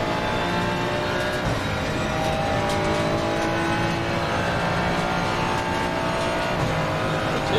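A Porsche race car engine drones continuously in a VR racing game, its exhaust note a steady loud roar with sustained revving tones throughout.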